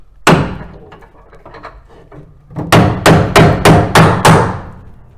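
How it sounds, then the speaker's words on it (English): During a 2-inch drop spring and shackle install on an F-150, a bigger hammer bangs on a part being pried out, with a few scattered knocks and then six loud, evenly spaced heavy strikes, close up. "Bigger hammer."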